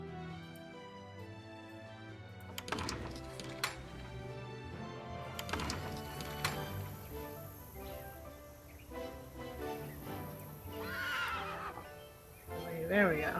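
A horse whinnies in the Nancy Drew game Secret of Shadow Ranch, faint and brief near the end, beneath game music and spoken dialogue.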